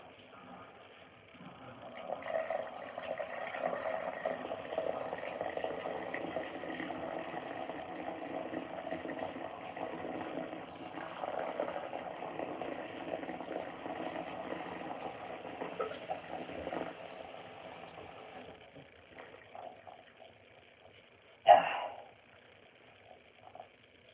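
A G&W top-loading washing machine on a heavy wash cycle drains water out and refills with hot water, a steady close hum and gurgling rush for most of the time, then fading, with a sharp clunk near the end.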